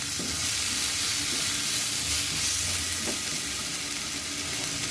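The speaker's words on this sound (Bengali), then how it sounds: "জিরে গুঁড়ো, সামান্য ধনে গুঁড়ো দিয়ে দিলাম, হলুদ দিয়ে ভালো করে কষিয়ে নেব" Ground spices (salt, cumin, coriander and turmeric) sautéing in a pan for a rohu fish curry with green banana and potato, giving a dense, constant sizzle and hiss with faint stirring scrapes and no speech.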